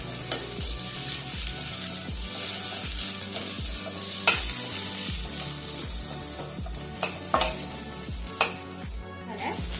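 Chicken crispy with onion stir-fried on a high gas flame, a steady loud sizzle broken by rhythmic scraping strokes of a spatula against the pan, with no talking.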